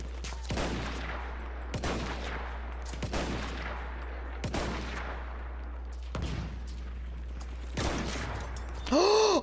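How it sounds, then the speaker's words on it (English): Sniper rifle shots ring out in a first-person shooter video game, four or five loud sharp cracks spaced a couple of seconds apart over a steady background hum, with a brief tonal game sound at the end. "I shot that dude from so far away"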